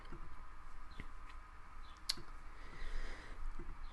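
A computer mouse clicks sparsely over a steady background hum, with a few faint, separate clicks and one sharper click partway through.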